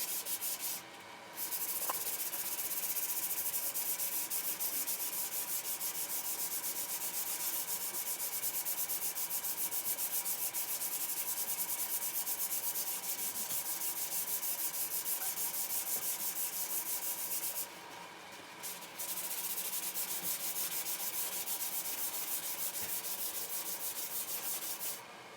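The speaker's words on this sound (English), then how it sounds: "I'm gonna attempt to sand it with the sanding sponge thingy that they sent me" Steady, continuous rasping of a sanding sponge from a 3M fiber compound kit rubbed back and forth on a surface, with two brief pauses.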